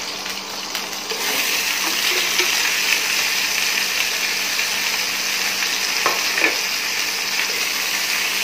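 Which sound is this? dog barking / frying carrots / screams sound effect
frying carrots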